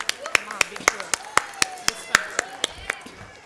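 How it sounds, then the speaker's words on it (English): Audience applause for teachers at a school annual day celebration, heard as a steady run of sharp, separate claps at a quick rhythm with a voice talking underneath. "A big round of applause to our teachers."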